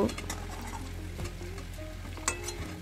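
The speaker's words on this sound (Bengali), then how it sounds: "আর এদিকে যে আলু ভাজতে দিয়েছিলাম মাঝে মাঝে আমি নেড়ে দিয়েছি।" New potatoes sizzle steadily in hot oil in a pan, with occasional scrapes and clinks as they are turned and stirred, the frying close and continuous and no one speaking.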